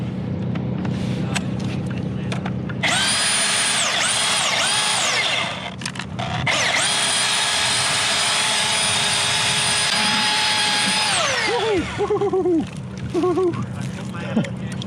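A chainsaw cutting the hinge of a large white oak during a tree removal over a new pool: a loud, steady high-pitched whine that dips and revs again, then winds down near the end, with outdoor background noise.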